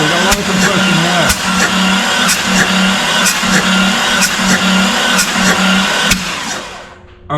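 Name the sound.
engine cranking over during a compression test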